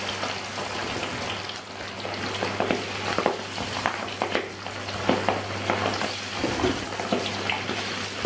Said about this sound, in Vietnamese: Sau khi mình để dầu nóng già rồi, bây giờ mình sẽ thả thịt vào này.